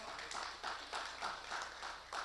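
Congregation at a Saturday church gathering clapping in a quiet, steady run of distinct claps, faint and somewhat distant, with no talk over it.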